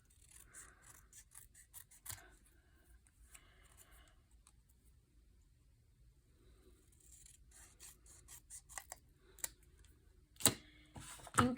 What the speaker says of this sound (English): I'm going to try and trim this a little straighter.